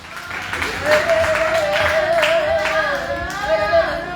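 Church congregation applauding for Jesus after a prayer, a sustained wash of clapping mixed with crowd voices and a steady tonal hum running underneath throughout.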